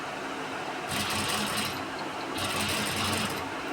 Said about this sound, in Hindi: बिल्कुल सेंटर में रख के ही सिलाई मारनी पड़ती है।